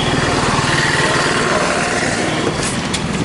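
A car engine runs steadily at close range during city driving, a loud, unbroken droning rumble with no voices.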